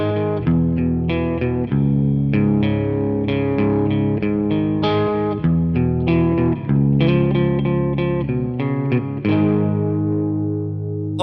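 Distorted electric guitar tuned half a step down with a drop tuning, playing loose grunge-style chords and riffs, heavy and sustained with effects, loud and continuous without talk.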